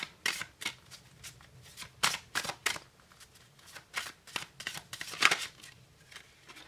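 Tarot cards are shuffled by hand, with a string of crisp, close riffling and flicking bursts that come in uneven clusters with short pauses between them. No voices.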